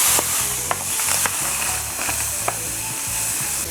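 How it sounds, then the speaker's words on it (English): A spoon stirs sugar into water for hibiscus sobolo drink, making rapid rhythmic scraping and swishing against the container, close and steady with occasional sharp clinks. "I'm just going to mix it till it dissolves."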